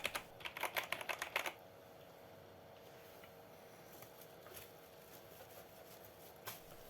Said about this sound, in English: pressing the Shift key has crashed the keyboard